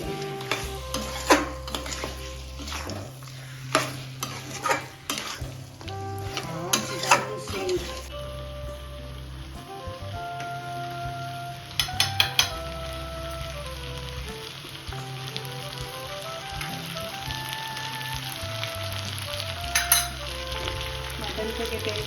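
Mutton korma sizzling and frying in a pot as ground spice masala is stirred in, with steady crackle and repeated scraping and clattering of a large spoon against the pan, punctuated by occasional louder knocks.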